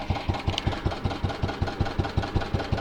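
A Staub walk-behind garden tiller idles outdoors in freezing conditions, its small engine giving a steady, close, regular thumping pulse at a fast even rhythm with no talk.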